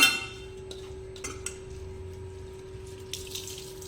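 Water is pressed by hand out of grated carrot being prepared for carrot halwa, making a faint trickle with a few soft splashes over a quiet room hum. Nobody talks.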